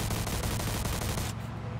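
Rapid gunfire in the video game Mafia 2, a dense burst of shots rattling loudly and continuously before cutting off abruptly near the end.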